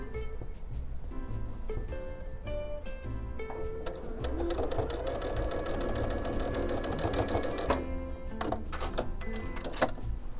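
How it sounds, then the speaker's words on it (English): A sewing machine stitching fabric runs in rapid mechanical bursts, stopping and starting, its whirring stitch rhythm close and clear. "I'm going to go ahead and continue sewing them"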